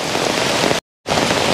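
Steady, dense rain falls across the highlands at Melukavu Mechal, a close, even hiss that cuts to complete silence for a moment midway, then resumes just as strongly.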